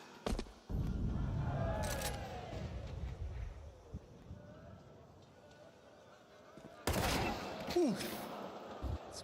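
Gunfire in Counter-Strike 2 during a pro esports grand final: a sharp shot burst near the start, then a louder cluster of shots and impacts late on, under steady crowd and caster noise.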